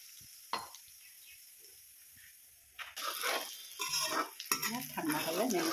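Spices go into hot oil in a pan on a just-switched-off gas stove while lemon pickle is being made, bringing a few faint knocks, then a close sizzle and scraping stir that grows louder and continues to the end.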